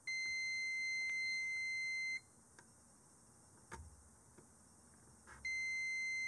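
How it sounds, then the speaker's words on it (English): A multimeter's continuity tester emits a steady, loud electronic beep while probing two shorted capacitors on an Nvidia GTX 770 graphics card, sounding for about two seconds, breaking off, then starting again near the end. "And indeed, the multimeter reveals a short on both of them."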